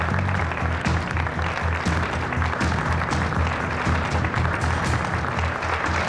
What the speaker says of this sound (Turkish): Alkışlar Yiğit Kozan için